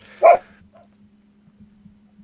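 A single sharp dog bark, close and fairly loud, followed by a quiet low hum and near silence.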